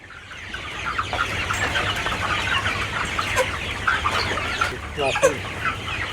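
Chickens cluck on a poultry farm, a busy chorus of close, overlapping clucks and squawks over a low steady background hum.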